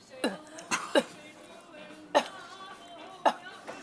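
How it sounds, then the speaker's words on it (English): A few short, sharp coughs break out at uneven intervals, close and fairly loud, with faint murmuring voices between them. "Y'all see that cough?"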